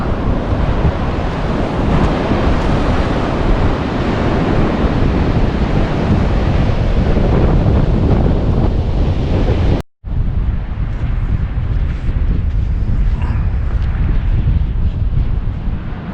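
Ocean surf on an Oregon coast beach, a loud, constant roar of breaking waves mixed with buffeting wind noise on the microphone, with a brief dropout partway through.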